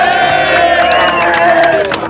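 Team members at a beach games event cheering and shouting together after a result is announced, a loud, close burst of excited voices lasting about two seconds.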